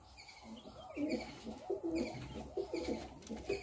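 A Madrasi pigeon cooing close by, several soft, rolling low coos repeating in a steady rhythm with faint chirps and background noise, and no talking.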